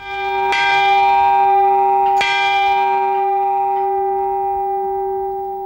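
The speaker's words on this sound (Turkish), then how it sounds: "Bu çan patrikhanenin çanı." Two loud, resonant strikes of the Patriarchate church bell, the second about two seconds after the first, each with a long ringing decay that lingers and slowly fades.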